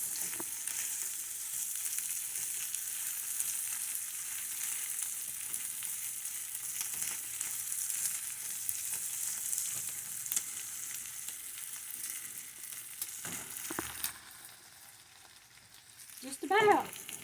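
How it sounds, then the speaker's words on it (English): Butter, corn and onions frying in a pan, a long continuous hiss of sizzling with faint stirring, closing with a couple of louder scrapes and pops. "Butter, corn, and onions."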